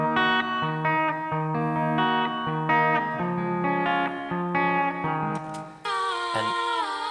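An electric guitar plays a looping arpeggio through effects, bright chorus-tinged notes ringing out in a steady repeating pattern over sustained tones, ending with a brief higher shimmering swell.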